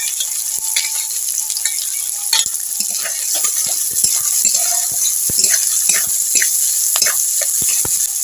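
Chopped onion and green chili fry in hot mustard oil with black cumin, a steady close sizzle broken by scattered spatters and stirring scrapes, with no talk.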